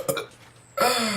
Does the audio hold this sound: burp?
yes